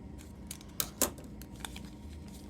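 Scissors snipping while making a Mason jar tissue holder, a few quiet sharp cuts, one louder snip near the middle, against a faint room background with no voices.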